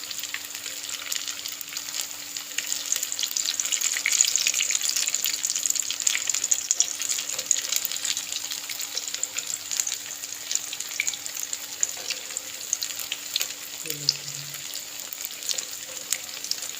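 Sago-seed vadas fry in a pan of hot oil, giving a steady, close, even sizzle with a soft crackling hiss and no voices.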